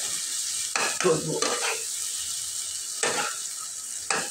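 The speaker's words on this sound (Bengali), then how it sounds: "এই মগজ দিয়ে আমি এইভাবে কিছুক্ষণ নাড়াচাড়া" Goat brain sizzles steadily as it fries in a pan, with a few soft scraping stirs of a spatula breaking in now and then, and a brief spoken word near the end.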